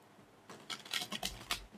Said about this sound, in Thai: เดี๋ยวขออนุญาตสับไพ่ก่อนนะคะ